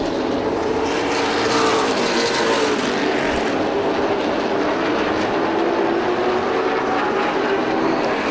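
Late model stock cars racing at Motordrome Speedway, a loud continuous engine roar filling the whole stretch with steady, dense noise and no voices.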